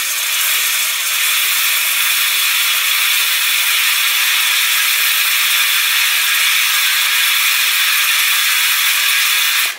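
SMEG EGF03 espresso machine steam wand venting steam, a loud steady hiss held for nearly ten seconds before cutting off at the end, with no voices.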